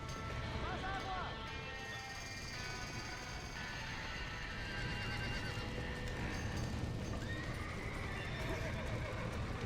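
Horses whinny and hooves clip-clop in Red Dead Redemption on Nintendo Switch amid a frantic fire scene, neighing repeating over galloping, with people shouting throughout.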